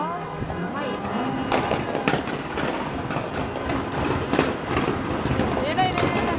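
Fireworks at the 2014 UAE National Day celebration crackle and thump in a dense, continuous barrage with sharp bursts throughout, while nearby voices chatter over the display.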